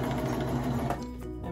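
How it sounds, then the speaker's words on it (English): A serger sewing machine stitches fabric while a tardy bells pattern is sewn, its steady rapid motor whir and needle chatter running close and continuous, easing slightly near the end. "go ahead and take it to the serger."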